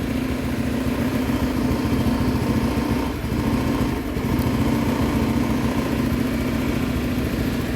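A PGM-FI fuel-injected motorcycle engine runs steadily at a raised idle, a close, continuous mechanical hum and drone with no pauses, heard alone.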